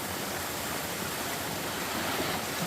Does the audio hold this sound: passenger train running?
no